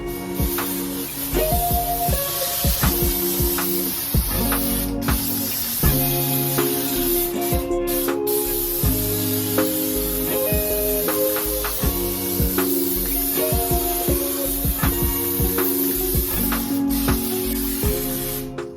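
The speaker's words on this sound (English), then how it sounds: "I'm gonna start with the artificial snow spray" Artificial snow spray from an aerosol can being sprayed onto a Christmas tree, heard as a continuous close hiss broken by a few short pauses.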